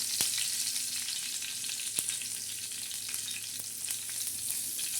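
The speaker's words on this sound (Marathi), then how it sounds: "आपण थोडंसं हिंग टाकायचं आहे तेलामध्ये आणि त्याला अशी चांगली खेळून द्यायची त्याच्यानंतर कढीपत्ता टाकणार आहोत" Asafoetida and curry leaves sizzle steadily in hot oil, a bright continuous frying hiss with a few sharp pops and a faint low hum underneath, close and even throughout with no talking.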